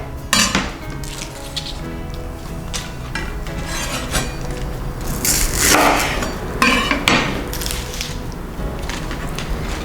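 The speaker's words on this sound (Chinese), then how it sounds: "准备5颗的青江菜，我们把青江菜对半切" A knife cuts five bok choy in half on a cutting board, a run of sharp knocks and crisp crunchy cuts at an uneven pace, close and fairly loud, with occasional clinks and no voices.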